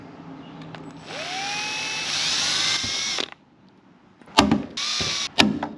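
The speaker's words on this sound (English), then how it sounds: "I'm going to drill a hole for the rivet." A power drill boring a rivet hole into a Humvee body panel: the motor whines up and holds for about two seconds, stops, then gives two shorter bursts with sharp clicks between them, loud and close.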